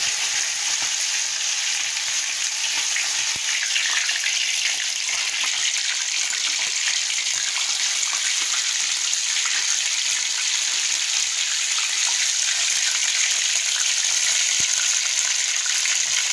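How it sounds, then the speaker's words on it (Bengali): A whole chicken fries in about 250 grams of oil in a wok in a village kitchen, giving a loud, steady, close hissing sizzle that continues unbroken. "এবার কড়াইয়ের মধ্যে 250 গ্রাম তেল দিয়ে দিলাম। দিয়ে আস্ত চিকেনটা দিয়ে দিলাম"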